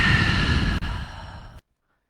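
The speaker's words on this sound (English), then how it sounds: "Let's take 2 breaths here." Deep exhalation during a yoga flow class at a studio, a long, steady breath sigh lasting about a second and a half, close and fairly loud, before cutting to silence.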